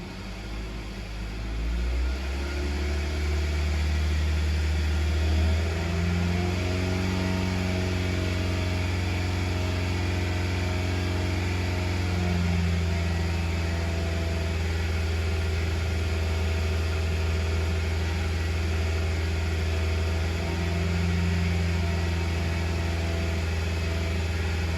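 A Toyota engine with a lean-running fault, revved and then held steady at 2,500 RPM, drones loudly and evenly after a brief rise at the start, with no talking.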